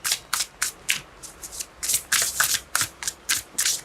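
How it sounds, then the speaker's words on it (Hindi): Tarot cards are shuffled by hand in a rapid, rhythmic run of crisp riffling bursts, close and clear with no talking over them. "One more shuffle."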